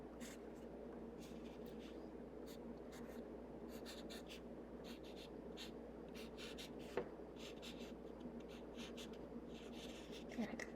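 Sharpie marker drawing on paper for a kids' art piece: faint, scattered scratchy strokes and short squeaks over a low steady background hum, close by and quiet.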